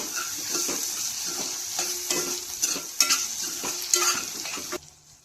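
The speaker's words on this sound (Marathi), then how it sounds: "परत 1-2 मिनिटं फ्राय करून घ्यायचं त्या मिरच्यांना पण तेलामध्ये।" Roasted chillies fry in oil with a steady sizzle, joined by regular scraping stir strokes from a utensil against the pan before the sound cuts off near the end.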